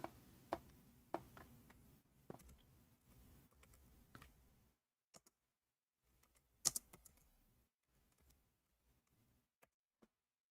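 Typing on a computer keyboard in Arabic: quick bursts of crisp keystrokes for several seconds, then a pause and a few scattered, sharper clicks.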